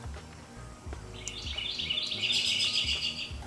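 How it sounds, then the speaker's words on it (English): Several birds chirp and tweet in quick, bright bursts in a backyard over a low outdoor background hum, getting busier toward the end. "You hear the birds? I love my backyard. I love birds."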